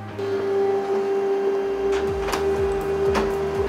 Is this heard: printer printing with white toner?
yes